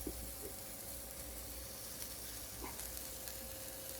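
A bavette steak sears in a hot pan, giving a steady low sizzle and hiss with a few faint clicks, no talking over it.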